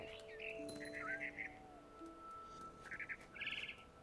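Birds chirp in short bright trills and whistles within What Remains of Edith Finch, several bursts scattered over quiet ambience alongside a faint sustained tone, no talking.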